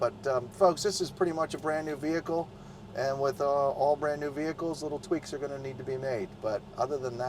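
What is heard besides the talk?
No distinct noise like a dog, phone or traffic.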